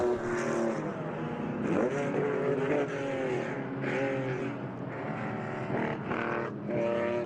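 No. 73 Porsche 911 race car in vintage road racing at Laguna Seca, engine revving and shifting through gears at close range with brief passing swells, continuous and fairly loud with no talk.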